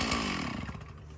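A chainsaw cutting damaged cherry trees for firewood, its engine roaring loudly and continuously at close range, with the pitch dipping slightly as it bites into the wood.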